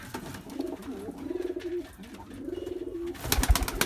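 Pigeons coo in low, throaty rolling phrases, two clear calls close by, followed by a brief burst of wing flapping or rustling.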